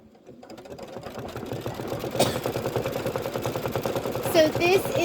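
An embroidery sewing machine stitches a decorative wing outline on a Kimberbell rain boots project, its steady rapid needle chatter running continuously and growing slightly louder, with a few brief higher clicks near the end.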